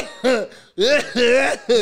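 A child's few harsh, voiced coughs in quick bursts, close and loud, with short gaps between them.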